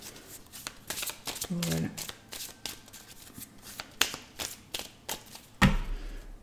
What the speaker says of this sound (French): on remélange